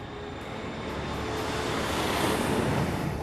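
Airliner climbing just after liftoff with the gear coming up, a steady broad roar of jet engines and rushing air that swells slightly, continuous and loud with no talking.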